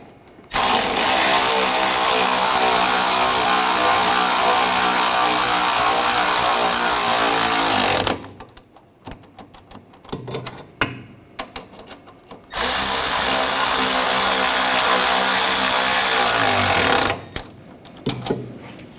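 Power tool tightening rear forward lower control arm bolts on a 2011-2018 Volkswagen Jetta, two long, loud, steady motor whirs of several seconds each separated by a stretch of clanking tool handling.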